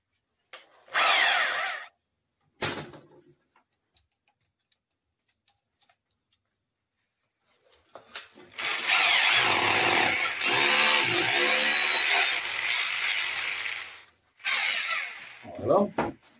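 A power drill bores holes into a wall for wall plugs beside a heating boiler: two short bursts, a long silent gap, then a sustained loud whine of several seconds and a final burst, close by.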